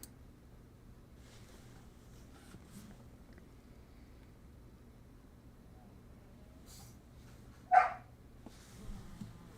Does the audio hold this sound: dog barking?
yes